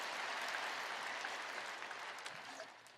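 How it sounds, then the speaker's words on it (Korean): A church congregation at a Sunday worship service at Yeouido Full Gospel Church applauds the Bethany choir, a dense, steady wash of clapping from many hands that carries on without pause and thins slightly near the end. "우리 베다니 찬양대에게 뜨거운 감사 박수 한번 주시기 바랍니다"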